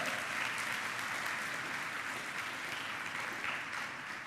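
Church congregation applauding during a family worship service, a steady, dense wash of clapping from many hands that holds evenly throughout without voices breaking through.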